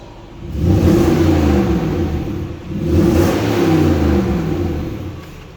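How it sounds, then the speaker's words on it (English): A 2001 Lexus SC430 4.3-litre V8 engine revs up twice in deep, throaty surges, each rising and easing off, close by with no talking. "Just with it being a V8, I'm going to show you what it sounds like."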